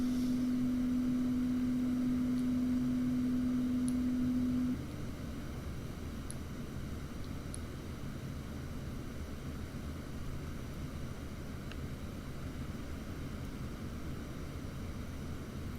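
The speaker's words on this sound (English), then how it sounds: "Get our flaps to go down. Gear coming down." A C-101CC jet trainer in the DCS flight simulator lowers its landing gear and flaps over a constant low cockpit engine drone. A steady tone cuts off after about five seconds, and faint clicks are heard along the way.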